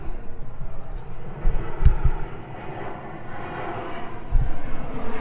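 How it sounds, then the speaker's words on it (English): A fixed-wing airplane passes overhead, its low, steady engine drone and rumble continuous throughout, with wind buffeting the microphone and a few brief low thumps; no one talks. "just a minute, plane flying over."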